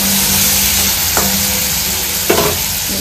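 Slit green chillies frying in a pan, giving a loud, steady sizzle with a couple of sharper spattering bursts.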